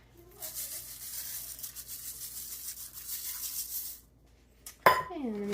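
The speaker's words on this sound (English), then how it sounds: "just going to give it a stir" Organic California-grown basmati rice stirred in a cooking pot, a soft continuous scraping and swishing for about four seconds, then a brief quiet gap before a short clink and a faint voice.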